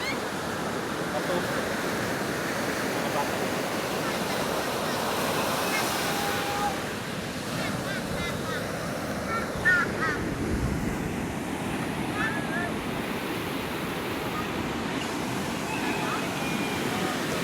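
Sea waves washing onto the seashore, a constant loud roar of surf mixed with wind buffeting the microphone, with faint voices in the background.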